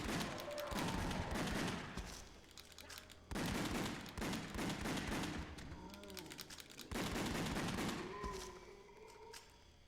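Gunfire in a video game: repeated loud bursts of rapid shots in three main volleys, with a faint voice and game sounds in the gaps.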